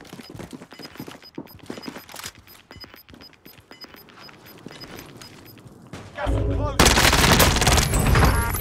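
Video game shootout with bursts of gunfire, first as scattered shots under game noise and talk, then a loud, dense volley of rapid fire in the final seconds.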